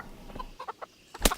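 Video game chickens cluck in a survival game, a handful of short, choppy clucks in an uneven rhythm, close and fairly loud, ending with one sharper squawk.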